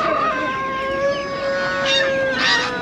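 A rooster at a busy poultry market in Taşköprü, Kastamonu, gives a loud, close, drawn-out crow held steady for several seconds against faint background market noise.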